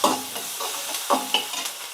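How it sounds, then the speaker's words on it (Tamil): Onion sautés with ginger-garlic paste in a hot pan, giving a close, crackling sizzle broken by a few scraping stirs of a spoon across the pan. "அதிலே வெங்காயத்தை சேர்த்துக்கிறேன். வதக்கி விடுங்க."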